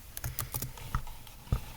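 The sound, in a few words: keyboard keys pressed to save and control-click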